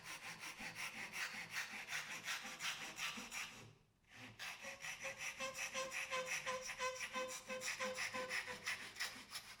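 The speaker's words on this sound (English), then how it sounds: "For the straight sections, I hold down a piece of wood as a guide to keep the cut perfectly straight." A handsaw cuts wood for Kumiko latticework, run along a held-down wooden guide for a straight cut, with quick, even back-and-forth rasping strokes, close and steady, pausing briefly once before resuming.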